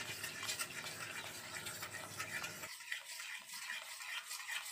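Banana halwa being stirred in a pan with ghee and cornflour, a soft continuous scraping and stirring close by, steady and fairly quiet with no talking.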